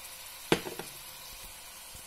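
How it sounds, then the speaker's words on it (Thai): Onion and minced pork hit a hot pan for spaghetti sauce with one sharp clatter, then a soft, steady sizzle with a few light stirring scrapes, close and fairly quiet, no talking. "ใส่หัวหอมใหญ่ลงไปผัดให้หอม"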